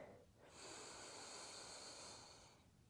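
One slow, deep breath during a yoga flow, a soft airy inhale swelling into a long hissing exhale, close and quiet with no talking.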